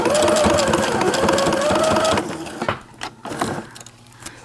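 A sewing machine stitching elastic and Aplix on a BumGenius 4.0 pocket cloth diaper, running in a steady continuous mechanical whir for about two seconds, then stopping and giving way to quieter handling noises.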